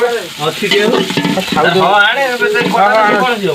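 Onions browning in hot oil on a home stove hiss and crackle under a speaking voice that stays on top of the sizzle the whole time.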